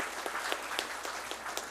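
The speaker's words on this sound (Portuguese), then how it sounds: "uma salva de palmas" Applause from an audience at a Brazilian public-service TV program event, sounding as a thin, fairly quiet patter of clapping with a few sharper distinct claps, steady throughout.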